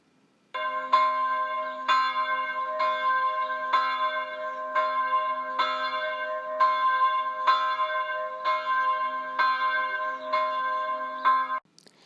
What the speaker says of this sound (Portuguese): quando o carrilhão soou à meia-noite